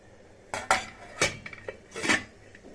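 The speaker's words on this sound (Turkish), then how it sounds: "Kapağını kapatıyoruz" A lid goes onto a cooking pot holding frozen peppers in sauce, giving several sharp metallic clanks and knocks close by, spaced over about two seconds with quiet gaps between.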